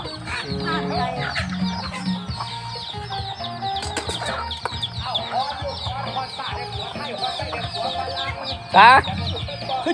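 Chickens clucking nearby in a rural setting, repeated short clucks over a background of murmuring, with a brief burst of louder squawking and wing flapping near the end.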